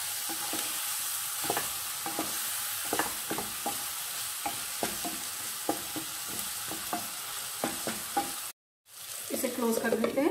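Spiced eggplant stir fry being stirred in a pan, with steady sizzling frying and repeated scraping strokes of the spoon close by, a brief silent gap, then louder scraping and bubbling.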